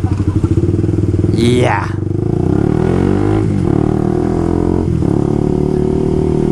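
A single-cylinder thumper motorcycle engine runs close by with a loud, steady pulsing idle, with a brief rev and one short spoken word partway through.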